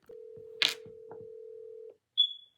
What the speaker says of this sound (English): let me call my mom right now and show you